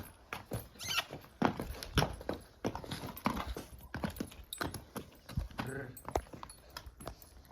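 A horse walks with steady, clear clip-clopping hooves, a loud irregular series of hoof strikes close by with some rustling around.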